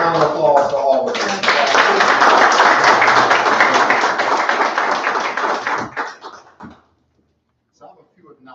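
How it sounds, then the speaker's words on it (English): Audience at a graduation ceremony breaks into loud sustained applause and cheering for the graduates, dense clapping for several seconds before tapering off into quiet with a few scattered claps. "Let's give a round of applause to all of them."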